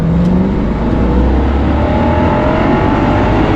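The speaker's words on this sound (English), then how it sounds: "It's a good sounding engine, and maybe we can open it up a little bit." A Lexus RC F with a 5-litre V8 roars loudly and continuously from inside the cabin under acceleration, its deep engine drone steady and dominant throughout.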